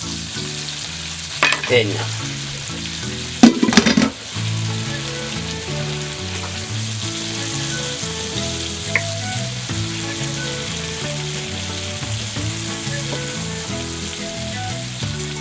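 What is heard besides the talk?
flour-dusted zebra meat chunks searing in a pan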